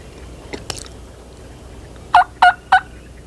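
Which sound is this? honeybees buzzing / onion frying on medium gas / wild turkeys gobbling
wild turkeys gobbling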